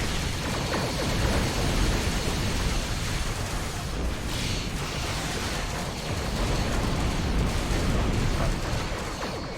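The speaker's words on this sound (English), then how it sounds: "Proton launchers going off, and this thing is tough as anything." Sustained barrage of proton launcher blasts during a Star Trek Online starship fight, a loud, churning wash of overlapping booms and crackles lasting several seconds without any talking.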